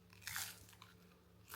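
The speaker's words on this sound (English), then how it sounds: "Have a little bite of the corn thin." One crisp bite into a sour cream and chive corn rice cake, a close, quiet crunch with a short brittle crackle and a few faint chewing crackles trailing after.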